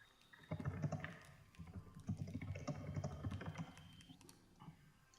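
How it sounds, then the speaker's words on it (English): Rapid clattering keystrokes on a computer keyboard, close and fairly busy, running in uneven bursts for several seconds with low thumps underneath and no talking. "I'm doing some quick typing right now."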